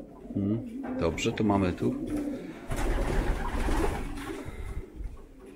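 Pigeons coo softly in a pigeon loft, low repeated calls running under and after a man's close speech, with rustling and shuffling in the background.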